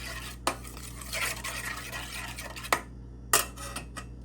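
Cake batter ingredients are stirred together in a bowl, with steady close scraping and swishing strokes broken by a few sharp clinks of a utensil against the bowl's side.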